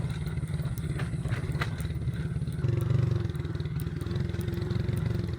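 A motorcycle ridden in first gear along a rough rural road in Barangay Gen. Luna, San Remigio, gives a close, steady low throbbing that swells briefly partway through, with light clattering over it.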